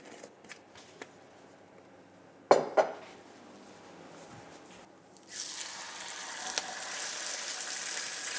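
Chicken saltimbocca, Parma ham side down, hits hot olive oil in a pan on medium-high heat and starts a steady, bright sizzle that holds to the end. Before it come a few quiet kitchen clinks and a sharp knock.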